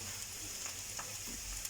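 Onions frying and sizzling in a pan for a chicken curry, a steady soft crackle with faint stirring and shaking scrapes, low and continuous throughout.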